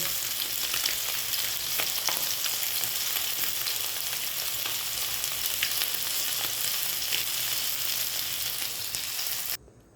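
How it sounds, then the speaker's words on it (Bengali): Fish frying in mustard oil, a loud, dense, continuous close sizzle with occasional crackles, cutting off abruptly at the very end, no talk. "সর্ষের তেলেই ভাজছি। মাছ আমার ফ্রাই হয়ে গেছে।"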